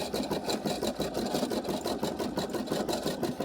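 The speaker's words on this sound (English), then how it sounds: "I love to sit here and watch my machine just to stitch." An embroidery machine stitches an appliqué design in a multi-position 5x12 hoop, its needle beating in a fast, steady rhythm that stays close and loud throughout with no voices.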